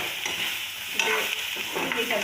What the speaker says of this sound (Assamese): ভাতকেৰেলা তাৰমানে বেছি অলপ পকা হৈ থাকিলে এনে কৰি এইফালে ভাজি লওঁ